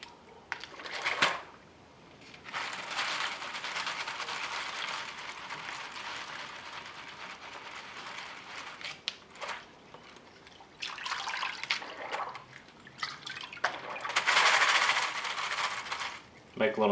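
Running water rinses soap off 9mm brass casings after sonic cleaning, a rushing splashy hiss that comes in several bursts with short gaps between, moderately near and fairly quiet.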